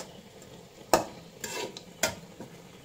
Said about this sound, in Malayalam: തക്കാളി എല്ലാം കൂടെ നമ്മൾ വഴറ്റാൻ വെച്ചു.